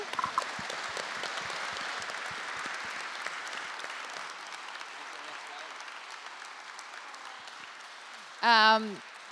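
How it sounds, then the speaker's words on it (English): A conference audience applauds a football panel in a hall, with dense, steady clapping that slowly fades over several seconds, and a voice speaks briefly near the end. "Please, a round of applause for the panel."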